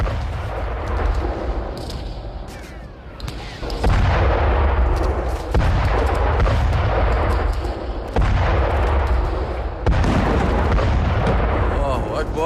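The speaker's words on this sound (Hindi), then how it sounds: "दाहिया में हिजबुल्लाह के इंटेलिजेंस सेंटर पर बमबारी की गई।" Bombing of a Hezbollah intelligence centre in Dahiyeh, Beirut, Lebanon, in an Israeli military strike: repeated deep, loud booming blasts and rumbling roars that swell and break off in several surges, with broadband crackle throughout.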